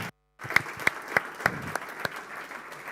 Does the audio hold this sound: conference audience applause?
yes